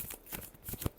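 Tarot cards are shuffled by hand in quick, close riffling bursts, ending with a sharper slap of the deck.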